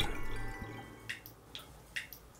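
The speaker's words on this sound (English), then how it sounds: "That steady drip, drip, drip." Water dripping steadily, a few soft distinct drips at an even pace over a quiet background hiss.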